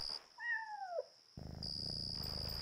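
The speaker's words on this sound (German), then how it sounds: "Jetzt schnurrt das Mietscher Kätzle." A cat in the video game Yonder: The Cloud Catcher Chronicles gives a short, rising-then-falling meow, followed by a steady close purr over a constant high game tone.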